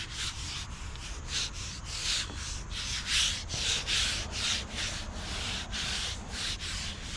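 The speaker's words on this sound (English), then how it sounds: "gonna go ahead and scuff this up." Rhythmic scuffing and sanding rasps across a 1992 Roadmaster dashboard being prepped for repaint, a steady back-and-forth rubbing with regular strokes, close and continuous.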